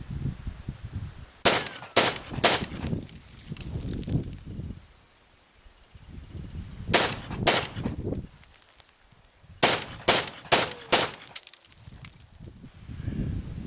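An AK rifle fitted with a Matacore flash suppressor fires outdoors in sharp, loud single shots, some in quick pairs and a rapid string of four, separated by pauses with faint outdoor background noise.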